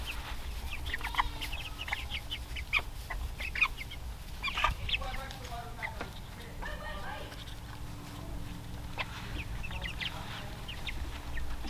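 Laying hens and a rooster cluck and call repeatedly at close range while gathering to clean up leftover feed on a farm with goats and meat chickens, the bursts of clucking steady throughout over a low background hum.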